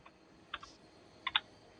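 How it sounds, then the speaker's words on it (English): Several quiet keystrokes on a computer keyboard, in two brief clusters of clicks separated by a pause, heard in a quiet room with no talking. "I'm typing it out because"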